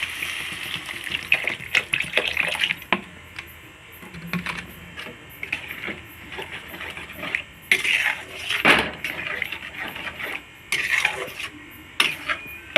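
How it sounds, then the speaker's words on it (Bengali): Water poured into a pan of egg tarka, with clattering and scraping of a spoon against the pan, intermittent metallic knocks and a soft splashing pour, close and fairly loud in bursts. "আমি জল দিয়ে দেবো।"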